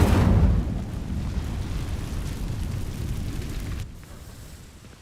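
A burst of fire from the Incendio spell igniting dry vines in Hogwarts Legacy, opening with a loud whooshing flare that settles into a steady crackling roar before cutting off and fading, with no voices.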